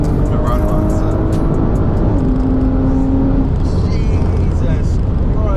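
A 700 bhp twin-turbo Audi RS4 Stage 3, MRC tuned, accelerates hard, its loud engine roar filling the cabin and rising in pitch partway through, with people's voices mixed in.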